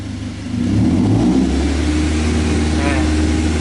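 An EFI car engine idles and then revs up as the throttle is pressed, holding at a raised, steady drone close by, with a voice speaking over it.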